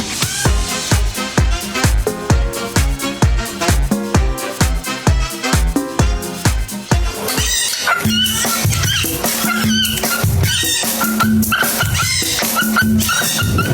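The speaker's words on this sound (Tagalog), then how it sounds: "Ang karaoke naman ang boses ng asong ito." A dog yips and howls along to loud karaoke music, its whimpering voice riding over a thumping rhythmic beat that shifts to a different backing track midway.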